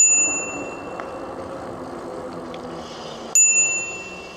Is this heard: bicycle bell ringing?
yes